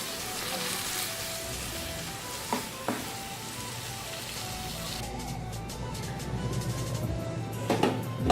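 Keema matar, minced meat with peas, fries on high heat in a steady, dense sizzle, with a few light stirring clinks and scrapes that pick up toward the end.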